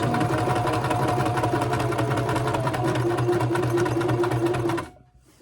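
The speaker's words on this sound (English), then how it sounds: "This is called chain stitching." A sewing machine chain stitches quilt pieces for a wonky log cabin quilt, whirring in one continuous, fast, even run up close before stopping abruptly near the end.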